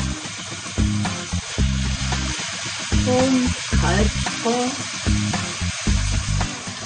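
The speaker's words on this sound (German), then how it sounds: "Kommt das Fleisch zurück in die Pfanne." Veal belly meat sizzles and fries in a pan on a home kitchen stove, a steady crackling hiss broken by repeated stirring scrapes, with a person speaking briefly over the cooking.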